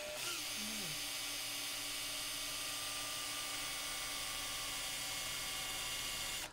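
A power drill bites into aluminium on a new Land Rover Defender 90, a loud, steady high-pitched whine held for several seconds after a brief pitch wobble at the start, then cut off.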